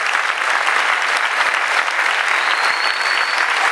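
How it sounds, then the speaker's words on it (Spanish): A large crowd gives a loud, sustained ovation with dense, steady clapping throughout, close and continuous with no talk over it. "Un fort aplaudiment."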